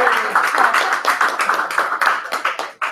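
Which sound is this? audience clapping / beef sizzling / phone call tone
audience clapping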